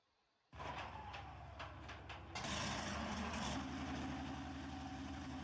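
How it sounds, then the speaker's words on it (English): A tank engine in Tank Mechanic Simulator starts with a sudden jump into a steady, loud, low rumbling idle that grows heavier and rougher partway through, running continuously with no talk over it. "Toggle the engine."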